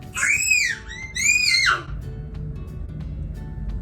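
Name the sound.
young child yelling while playing on a tablet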